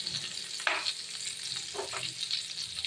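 Vegetable pakora batter fries in oil mixed with a little butter, producing a quiet, steady hiss with a few soft bubbling bursts as the batter goes in.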